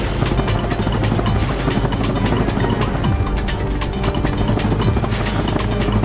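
A helicopter in the Ratchet & Clank video game drones loudly and continuously, its dense rotor chop filling the whole stretch without pause.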